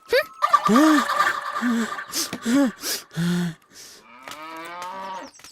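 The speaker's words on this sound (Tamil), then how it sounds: "இது பசுமாடு" A cow moos several times in a row, with long drawn-out lowing calls that rise and fall and are fairly loud and close, heard in a scene from a Tamil comedy film.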